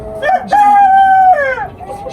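An Ayam Cemani rooster crows once, loud and close, a long drawn-out call with a rising start and falling tail, in a rooftop poultry setup.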